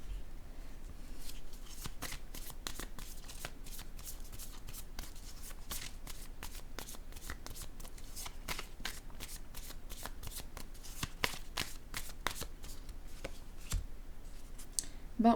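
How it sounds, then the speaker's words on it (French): Tarot cards shuffled and placed on a table, a long run of crisp riffling and snapping card sounds with scattered sharp clicks as cards are laid down, close and moderately loud, with faint bits of voice. "Je vais déposer une autre carte ici pour lui."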